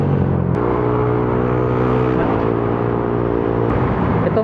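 A Yamaha Aerox scooter engine drones loudly up close while riding, its pitch shifting in steps as the throttle opens, with a steady rumble and wind noise and no talking.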